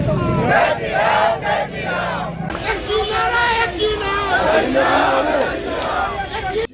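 Crowd at a tense street protest in Dabgram–Fulbari shouting a slogan in unison, rhythmic massed voices and cries close by, a loud continuous chant with babble throughout.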